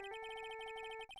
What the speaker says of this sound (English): I bet it was this ringtone that caused it.